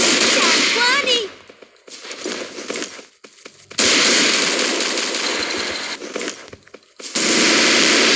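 Rapid bursts of AF-12 shotgun fire in the mobile shooter game Chiến Dịch Huyền Thoại, loud, dense volleys separated by brief lulls.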